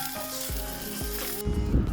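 Food sizzles steadily over low heat in a Teflon-coated nonstick pan, a bright continuous crackle with a few soft low thumps, growing louder and harsher near the end.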